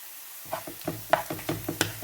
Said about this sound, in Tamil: வதங்கி வரட்டும் கொஞ்சம் நேரம் வெயிட் பண்ணுவோம்